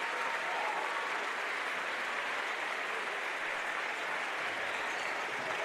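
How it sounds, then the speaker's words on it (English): Home fans at a girls' high school basketball sectional championship give a steady, sustained round of applause, dense clapping heard from a distance with no clear voices. "The Royals fans on their feet applauding their team."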